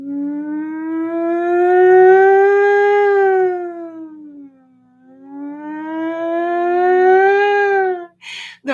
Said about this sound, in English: They have like it's like an old timey fucking siren